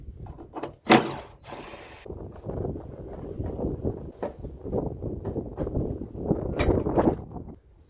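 Fasteners being undone on the front end of a car during a tidy-up, heard as a series of close clicks, knocks and plastic rattles with a sharp snap near the start, steady handling noise throughout, no talking.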